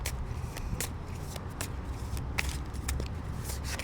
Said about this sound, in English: we're going to pull one more card